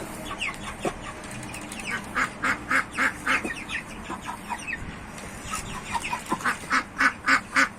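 Ducks arriving with broiler chickens give a run of repeated nasal calls, close and loud, coming in short bursts that quicken and grow stronger toward the end.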